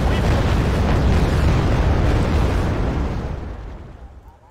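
Heavy artillery fire in Wargame: Red Dragon pounds at ships during a naval invasion, a dense rolling roar of explosions that holds loud and then fades away over the last second or so.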